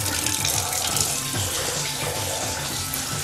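Tap water runs steadily into a kitchen sink, a constant close splashing hiss with no pauses.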